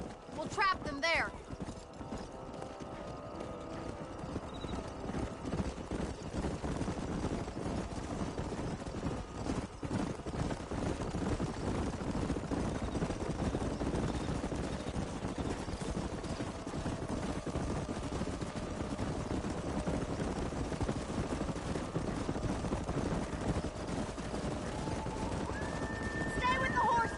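Horses galloping with steady clip-clop hoofbeats in the Red Dead Redemption wild west game, a continuous dense rumble of hooves running throughout, with occasional voices and game sounds over the herd.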